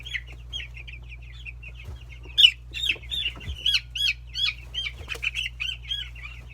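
Young chicks peep and cheep repeatedly up close as they are placed into a bin, with brief bursts of wings flapping and scuffling in between.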